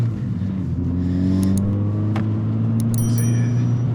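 A Renault Clio Trophy drives along an icy road, its engine giving a loud, steady drone with a gradual rise in pitch as it accelerates, close and continuous.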